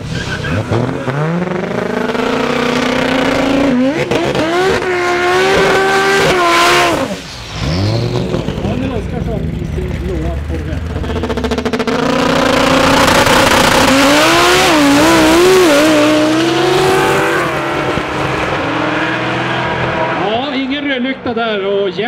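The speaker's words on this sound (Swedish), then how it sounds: "Jens Gustafsson i skeva vägan med Volvo B18-motor vidare till final i Outlaw-klassen." Loud racing engines roar and rev as an Outlaw-class drag car with a Volvo B18 engine launches and accelerates hard at Umeå Open 2014, sustained and close, with a commentator talking over the noise.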